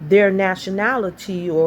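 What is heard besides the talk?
No everyday noise stands out behind the speech.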